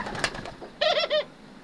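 Tame turtle doves in a breeding loft give a short burst of cooing calls, two close soft phrases after a stretch of quieter rustling.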